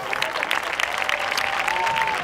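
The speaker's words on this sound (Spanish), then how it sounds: "Un fuerte aplauso para todos ellos, por favor" Audience applause for jury members at an event in Riba-roja de Túria, a dense, even wash of clapping from a crowd, steady throughout with faint voices and a tonal whistle-like line underneath.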